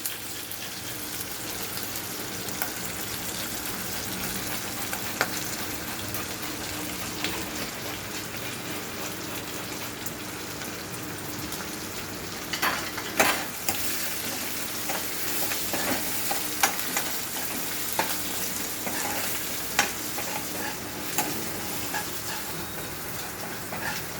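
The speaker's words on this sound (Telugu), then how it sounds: "దీన్ని కూడా మంచిగా నూనెలో వేగనివ్వాలి." Dried grated coconut fries in hot oil as a tempering for mango pulihora, giving a continuous sizzle with occasional stirring scrapes and clinks throughout.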